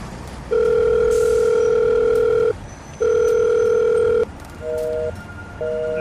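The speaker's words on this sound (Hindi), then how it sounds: "ठीक है, मैं फ़ोन करके देखता हूँ।" Telephone ringback tone on an outgoing call, loud and close: two long steady tones separated by a pause, then a shorter double tone, with no talk.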